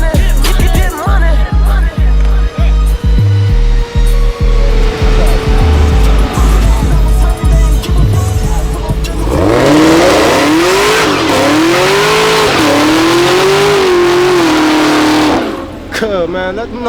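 A supercharged V8 car revs hard and repeatedly, close and loud, with a choppy rhythmic burble breaking into rising and falling wails of acceleration and some tire noise, under loud music and voices.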